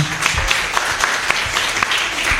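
An audience applauds in a dense, steady wash of claps at moderate volume, with a few sharper individual claps poking out and faint voices underneath.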